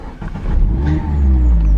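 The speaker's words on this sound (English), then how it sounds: "I'll just start the engine" A 2015 Mazda MX-5 1.5 SKYACTIV-G Sport Nav engine catches and settles into a steady, loud, close idle rumble, with no talking.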